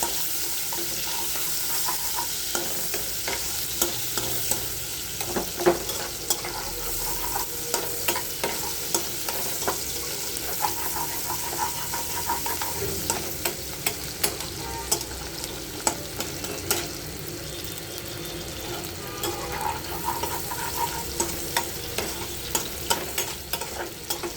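Sliced onions fry in hot oil in a pan, browning toward crisp, while a spoon stirs them: a continuous close sizzle with frequent scraping and clinking strokes, and no speech.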